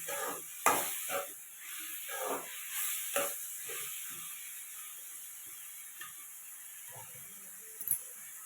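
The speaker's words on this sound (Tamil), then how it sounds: "தக்காளி வந்து வதங்குற வரைக்கும் நம்ம வந்து கொஞ்சம் நல்லா வதக்கி விடணுங்க" Tomatoes and onions sautéing in a hot pan for Tamil-style tomato rice, a soft steady sizzle with scattered scraping stirs of a spatula, moderately close, no talk.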